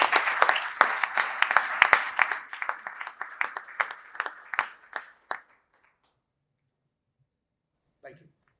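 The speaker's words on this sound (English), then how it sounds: "give yourselves a round of applause." Audience applause at a downtown state-of-the-city address in La Grange, a dense burst of clapping that thins over about five seconds into silence, with a brief faint sound near the end.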